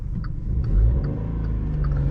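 A VW Up GTI's 1.0-litre three-cylinder turbocharged petrol engine with 115 hp runs steadily, a close, continuous low rumble with a slight swell near the start and no talk over it.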